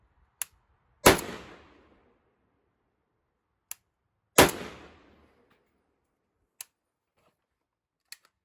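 Two loud, sharp rifle shots from a PSAK47 crack out a few seconds apart outdoors, each with a decaying echo tail, and fainter clicks fall between them.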